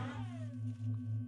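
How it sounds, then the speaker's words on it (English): A turret in the video game System Shock 2 gives a brief electronic chirp with a falling tone, layered over a steady low mechanical hum that sustains for about a second and a half without any voices. "That's the sound of a turret."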